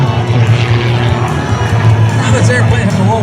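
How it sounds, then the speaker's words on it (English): An aerobatic airplane with a Lycoming IO-540 engine of over 330 horsepower performs at an airshow, a steady engine drone beneath a loud crowd and a commentator's amplified voice. "This airplane powered by Lycombe IO540 engine. This bringing in over 330 horsepower."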